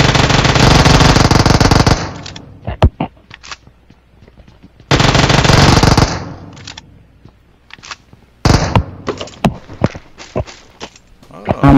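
Loud, close automatic gunfire in PUBG Mobile: two long sustained bursts of rapid shots separated by quieter stretches of scattered single cracks, clicks and footsteps, with a final burst of shots near the end and voices talking at times.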